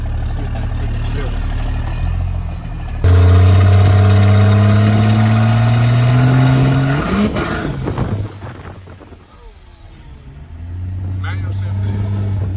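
A 1000 HP Cummins diesel truck engine with a hood stack revs hard in gear, a loud rising drone climbing steadily for several seconds before dropping off, then settling back to a lower rumble.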